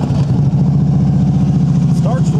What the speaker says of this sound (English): Go ahead and start it up for you guys so you can hear those pipes.